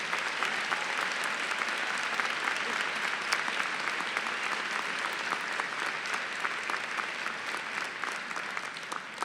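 Commencement audience applauds future teachers for a steady stretch of dense clapping, even and sustained from start to end with no voices on top.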